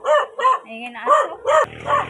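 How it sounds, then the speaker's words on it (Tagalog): A dog barking in a quick series of about five sharp, close barks, loud and clear, with people talking around it. "Ayan na aso."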